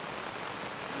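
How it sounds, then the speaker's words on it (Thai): Rain falling steadily outdoors near a house under construction, a dense continuous hiss of drops on surfaces with no talk. "ฝนตกเด้อพี่น้อง"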